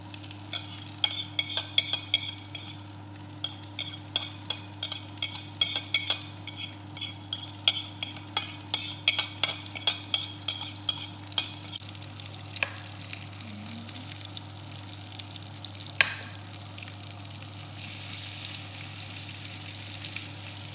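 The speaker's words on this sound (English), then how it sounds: "Try to fry both sides until they're brown like this." Salmon fillets frying in a pan for a lemon butter sauce dish, giving a steady close sizzle with frequent sharp spattering crackles and pops over a constant low hum, no talking.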